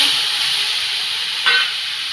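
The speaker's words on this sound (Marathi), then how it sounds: "मोहरी उड्या मारतायत आणि त्यांनी घालते मी कडीपत्ता आता मी घालून घेणार आहे हळद आणि लगेच मी टाकणार आहे टमॅटो" Tomatoes drop into hot oil tempered with mustard seeds, curry leaves and turmeric, giving a loud steady sizzle with a sharper hiss burst partway through.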